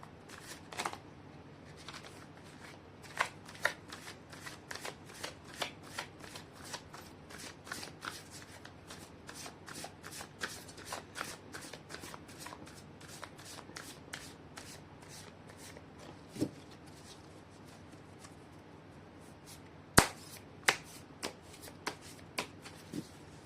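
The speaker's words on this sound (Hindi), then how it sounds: "मैं कर लेती हूँ कार्ड की शफलिंग।" Tarot cards shuffled by hand at close range in a long, steady run of crisp riffling snaps, with a few sharper taps and knocks near the end and no talking.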